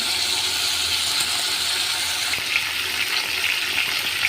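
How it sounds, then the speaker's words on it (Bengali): Chicken meat with salt and turmeric frying in oil in a wok, giving a steady, dense sizzling hiss that stays loud and even throughout, with no voices. "গোশ ভাজা হচ্ছে"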